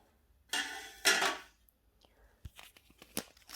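Plastic seed-sprouting trays are handled and set down, giving two loud crinkly rustling bursts followed by lighter clicks and taps, close by.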